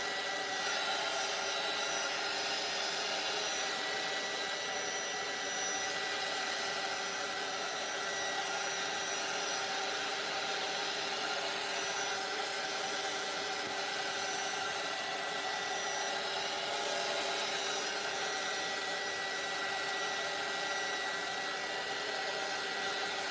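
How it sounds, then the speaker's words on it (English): A hair dryer blows on paint on a canvas, giving a constant, even rushing whir that holds steady without a break, with no talking. "I'm just going to use my dryer for a second because this is way too big here."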